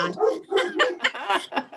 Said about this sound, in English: there's my dogs. Yes, I have a